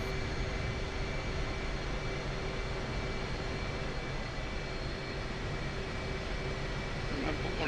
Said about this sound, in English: taxiing to runway 31